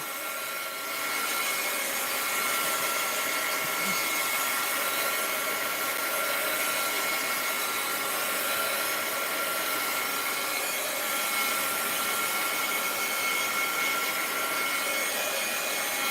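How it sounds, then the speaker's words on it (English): A hair dryer blows steadily to dry wet paint drips on artwork during a live art session, a loud, continuous whooshing hum that runs alone and unbroken from start to finish. "I'll dry them a little and then I'll blot them because I want to work fast"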